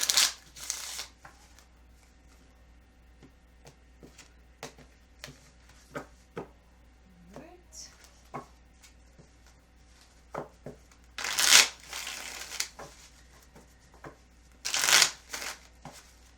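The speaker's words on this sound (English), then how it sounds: "So I do like to shuffle on camera so that you see that I'm not rigging the cards." A tarot deck being shuffled by hand, with bursts of riffling and shuffling separated by soft taps and quieter handling, close and clear.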